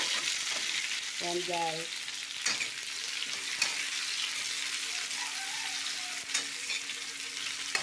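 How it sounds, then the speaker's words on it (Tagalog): Onion, garlic and tomato sizzle loudly and steadily in a hot pan, a dense continuous frying hiss with a few stirring knocks, while someone briefly speaks over it. "Sunod natin yung ating sibuyas, bawang, at saka kamatis."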